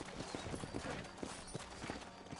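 Horse hooves in the video game Red Dead Redemption, a quick steady clip-clop of galloping strides, faint and even throughout.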